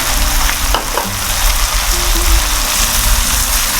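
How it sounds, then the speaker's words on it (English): Vegetable biryani with fresh yogurt just stirred in fries loudly in a pan, a dense, constant sizzle and bubbling roar that carries close and strong for the whole stretch, with a faint scrape early on and no voices. "And I am putting the fresh yogurt, half a cup of this size."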